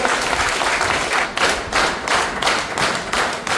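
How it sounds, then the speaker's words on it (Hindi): Audience at a business seminar clapping loudly on request, a close, vigorous burst of many hands with rhythmic surges and pulses running through the short stretch. "एक बार जोरदार क्लैपिंग, ताली बजा सकते हैं?"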